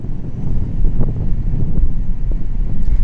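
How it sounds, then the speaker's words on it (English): Airliner engines at Gold Coast Airport produce a loud, steady, low roar with a rough, windy texture that holds throughout, with no talk. "Oh, listen to those engines."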